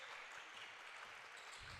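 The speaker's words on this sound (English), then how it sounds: "Why is everybody clapping?" Spectators clap steadily throughout at a high school basketball tournament game, a dense, continuous wash of applause filling the gym.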